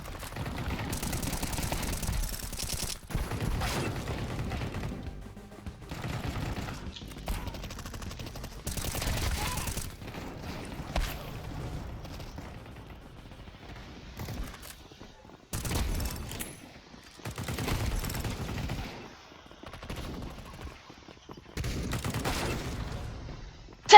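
Counter-Strike 2 gunfire: pistol shots and rapid bursts come in loud clusters separated by quieter gaps, with sharp repeated cracks and brief rattling volleys.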